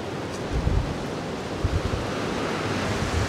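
Wind blowing outdoors on a warm winter day, a steady broad rushing roar with low gusty buffeting against the microphone, close and constant with no voices.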